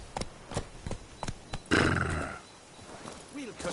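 Roach, the horse in The Witcher 3 video game, trots with steady hoof clip-clops, then lets out a loud close whinny lasting under a second, followed by quieter hoof steps and a voice.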